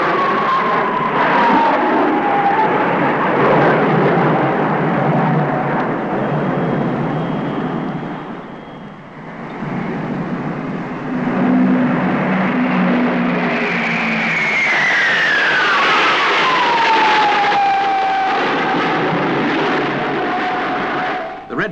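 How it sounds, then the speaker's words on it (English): Jet aircraft of the Pelicans formation display team perform an aerobatic sequence, a loud sustained engine roar that swells and fades as the planes pass, with a falling Doppler whine as one sweeps by close. "two aircraft split away from the remainder as part of a further aerobatic sequence"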